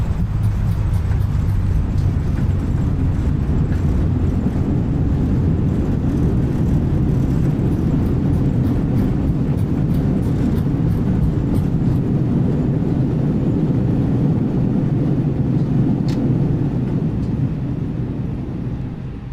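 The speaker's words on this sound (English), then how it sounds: "Reverse thrust." Airbus A320 reverse thrust roaring after touchdown at Edinburgh in a flight simulator: a steady, loud, broadband low rumble of engines and rollout that holds throughout and eases slightly at the end, with no talk.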